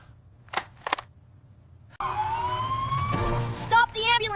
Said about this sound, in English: Stop the ambulance here!